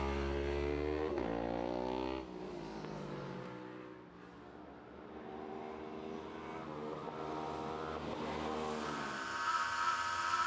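A road racing motorcycle screams along the bumpy Enniskillen road race circuit, heard on board. The engine holds a loud, sustained high-revving howl with gear changes, easing slightly mid-run before it winds back up.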